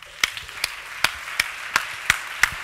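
A conference audience claps to welcome a speaker at a culture event, seven slow, evenly spaced, faint, distant-sounding claps in steady rhythm over a quiet room.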